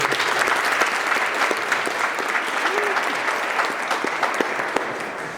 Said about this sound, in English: I think we deserve to give them a round of applause.